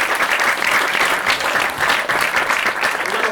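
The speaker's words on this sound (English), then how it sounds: "A round of applause for this gentleman." Steady, dense audience applause for a gentleman volunteer called up from the crowd at a Morgan and West parlour magic show, loud and even throughout with no pauses.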